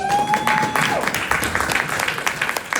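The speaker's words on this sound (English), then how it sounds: "Another round of applause for them folks." An audience at a spoken word event gives another round of applause after intermission, a loud clatter of clapping with a faint tone in the background and voices mingling.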